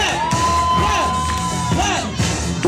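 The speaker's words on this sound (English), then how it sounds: "Let's put these hands together. Come on, y'all. Clap." A crowd at a dance competition's preliminary round cheers and whoops loudly for a few seconds, voices shouting together over a steady roar.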